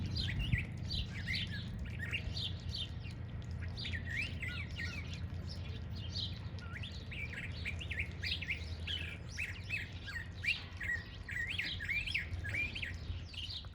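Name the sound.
thrasher bird calling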